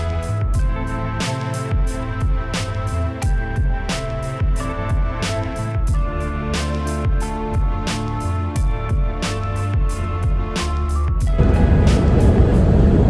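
Continuous car road noise while driving on a highway, a steady loud rumble and rush with regular rhythmic thumps, swelling into a broader hiss near the end.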